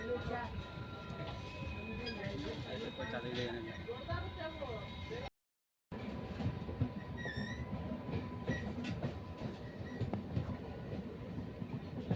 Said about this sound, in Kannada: Birur railway station.